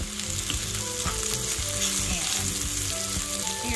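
Okra and onions fry in a small cast iron skillet on high heat, giving a loud, dense, continuous sizzle and crackle with stirring clatter. Music plays underneath.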